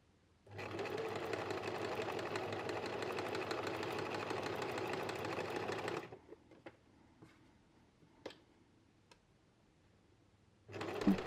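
A sewing machine stitches fabric for inseam pockets in one steady, rapid run of about five and a half seconds, then stops; faint handling clicks follow before the motor starts again briefly.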